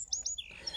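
Bewick's wren song: a few short, bright whistled chirps and a sliding warbled note, faint and clear with no voices.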